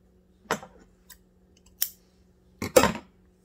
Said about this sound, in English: We're going to cut this here.